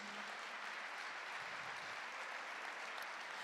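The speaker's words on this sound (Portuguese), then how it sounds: "Vamos dar mais um aplauso ao Senhor nessa noite." A church congregation applauds in a steady, dense wash of clapping that fills the whole stretch at moderate level, with no voices rising above it.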